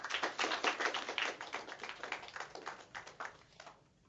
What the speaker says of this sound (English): give a warm round of applause, welcoming him